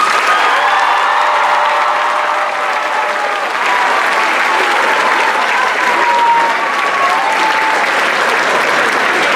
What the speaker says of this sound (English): Will you please join me in a round of applause for Mr. Brian Michael.